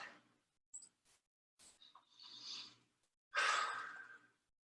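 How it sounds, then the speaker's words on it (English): Deep breathing in child's pose during a functional movement fitness class, a few soft breaths followed by a long, loud exhale close to the microphone, with quiet gaps between them. "Deep breath."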